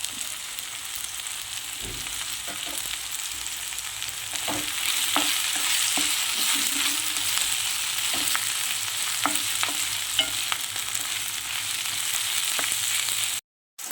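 Coriander, mint and curry leaves frying in a pan for coconut milk pulao, a steady sizzle with occasional stirring scrapes, loud and close, no talking.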